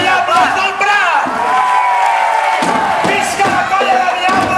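A crowd cheers and shouts loudly for the Colla de Diables del Prat at the Cova del Foc fire festival, with whoops rising and falling and voices calling out over the noise.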